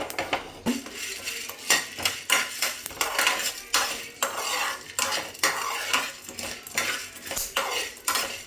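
Black peppercorns, about ten cardamom pods and a few other whole spices being fried in a pan, with a spoon stirring and scraping against the metal in a steady clatter, close and fairly loud, with a light sizzle beneath and no talking.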